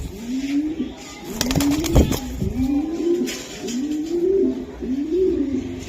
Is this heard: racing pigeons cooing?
yes